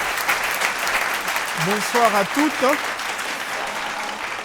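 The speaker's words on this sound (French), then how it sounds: "Sous vos applaudissements, on va écouter le représentant de Copemeko." Steady audience applause at a fashion event, a continuous wash of clapping that carries through while a voice speaks briefly over it near the middle.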